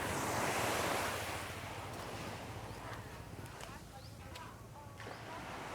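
Surf washes onto a Philippine beach in a broad, steady roar, with wind buffeting the microphone and faint distant sounds over the wash.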